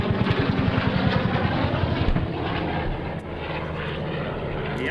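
A three-engine Junkers Ju-52 transport, a World War II warbird, flies at an airshow with a loud, throbbing propeller drone that settles into a steadier roar, and a voice is faint underneath.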